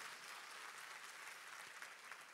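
A church congregation claps steadily as one continuous block of applause, fairly faint and distant, with no voices over it.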